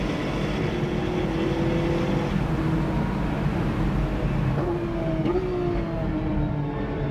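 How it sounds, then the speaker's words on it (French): A Porsche Cup race car on the Le Castellet circuit makes a loud, steady engine drone whose pitch shifts as it passes, with no talking. "Ah, c'est doublé par une Porsche Cup, c'est sûr qu'on ne peut pas lutter"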